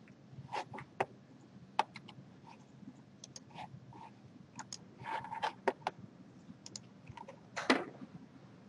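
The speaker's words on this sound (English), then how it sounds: "I'll just give you time to type in those column titles." Students typing on computer keyboards in a classroom, scattered quiet key clicks in irregular bursts from several keyboards over a faint room hum.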